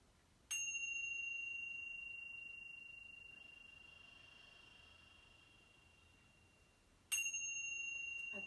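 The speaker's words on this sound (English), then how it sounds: "let's listen to the sound of the tingshas" Tibetan tingshas struck together twice, each strike a bright, piercing metallic ring that hangs and slowly fades over several seconds in a quiet room.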